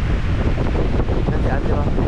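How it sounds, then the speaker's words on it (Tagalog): Strong wind blowing outdoors with water splashing onto a hammock, a loud dense roar buffeting the microphone continuously throughout. "Angin sa labas."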